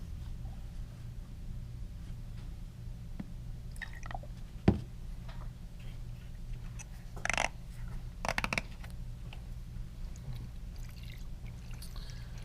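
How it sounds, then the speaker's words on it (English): Small amounts of water are added to an acetone mixture in a school purple dye experiment, with faint drips and short sloshing bursts of agitation over a steady low background hum. "I'm just going to keep adding little bits of water at a time, agitating until it becomes transparent."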